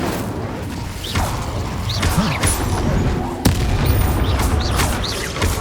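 Confringo and Incendio spell explosions in Hogwarts Legacy burst amid battle noise, with repeated booms, whooshes and a sharp crack over a dense, continuous din.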